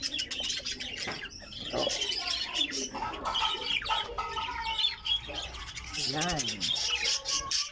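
Gouldian finches in a breeder nest box give busy high chirps and squawky calls up close, with a short rising and falling call near the end, while someone speaks quietly over them.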